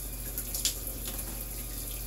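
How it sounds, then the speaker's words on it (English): Shower water runs steadily close by while a person rinses their face, a continuous even splashing hiss with no talking. "I just put my face underneath the water and rinse it off"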